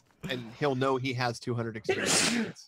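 Someone speaks, then a single loud, sharp sneeze bursts out at the end, close to the microphone.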